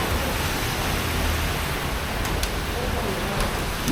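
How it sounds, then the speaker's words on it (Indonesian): Heavy rain falls steadily in a dense, even hiss near the town square in Batu, Malang, loud and continuous with no break across the whole stretch. "Hujan deras"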